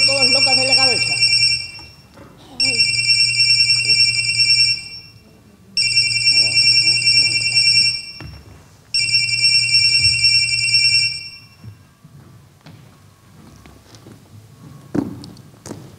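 A mobile phone rings in four long electronic bursts with short gaps between them during a stage play, loud and close, then falls quiet as faint room sounds continue.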